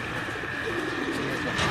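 A pigeon coos softly in low repeated murmurs while people talk over it nearby.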